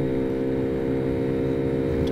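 A Honda Ruckus scooter fitted with Polini parts accelerates hard, its small engine droning steadily with a strong, even tone throughout and no voices.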